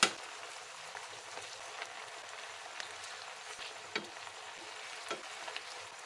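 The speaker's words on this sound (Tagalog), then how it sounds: "isir na natin ang chicken wings" Chicken wings sear in melted butter in a pan, a steady crackling sizzle with a few soft pops and light stirring scrapes, close and fairly quiet.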